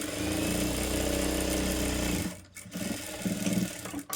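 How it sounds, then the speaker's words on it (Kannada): A sewing machine stitches the side seam of a blouse, a loud steady mechanical whir that stops abruptly partway through, followed by handling noises and a brief restart. "ಸೊ ಈ ರೀತಿ ನಾವು ಮಾರ್ಕ್ನ ಮಾಡಿಕೊಂಡು ಸ್ಟಿಚ್ ಮಾಡಿದ್ದೀವಿ"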